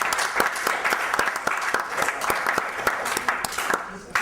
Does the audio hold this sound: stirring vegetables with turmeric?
no